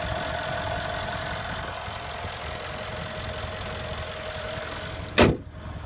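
A 2015 Mercedes-Benz E63 AMG S-Model 4Matic sedan idles with a steady, even engine hum for about five seconds. A short sharp burst follows near the end, then the rumble drops lower.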